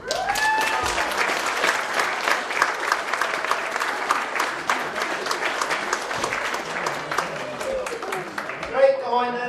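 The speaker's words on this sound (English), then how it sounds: "Come on, big round of applause." Wedding guests clap loudly and continuously, a dense crowd applause with a few voices audible over it, easing slightly toward the close.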